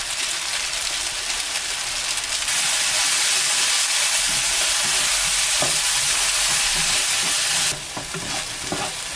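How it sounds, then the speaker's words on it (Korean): Chopped paprika, cherry tomatoes and ramen seasoning stir-fry in a pan, a loud continuous sizzle that swells brighter midway, with occasional scraping stirs and no voices. "라면 스프 2개 넣고 볶아줍니다."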